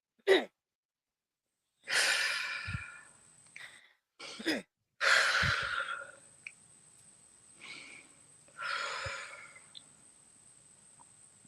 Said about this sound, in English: Let's take 3 deep breaths, everyone.